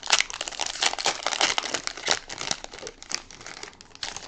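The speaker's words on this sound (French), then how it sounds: "on a 9 petits boosters à ouvrir" A Magic: The Gathering booster pack wrapper is torn and crinkled open from the Lorwyn set, giving a close, continuous run of crisp plastic crackling and rustling with no talk.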